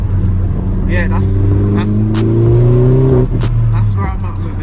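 A Vauxhall Corsa VXR with a worn engine drives along, its steady engine drone holding through the clip with a rising pitch sweep as it accelerates, loud and close from inside the car.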